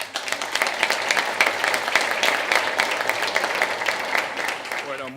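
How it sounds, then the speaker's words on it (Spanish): A conference audience at a business forum breaks into steady applause, many hands clapping together at moderate loudness for the whole stretch, fading slightly at the end. "Lo recibimos con un fuerte aplauso."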